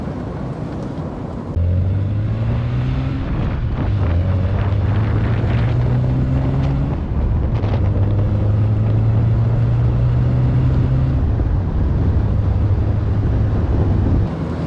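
A Porsche 924 drives with a steady engine drone and wind rush inside the cabin, its pitch rising and dropping through gear shifts, continuous and fairly loud with no talking.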